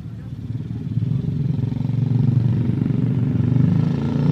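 Motorcycles ride past, their engines a loud, steady low drone that swells gradually as they draw nearer.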